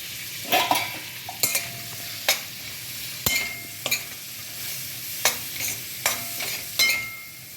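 Washed leafy vegetables frying in a pan, with repeated sharp scrapes and clacks of a spatula stirring at irregular intervals over a soft, low sizzle, close and without talk.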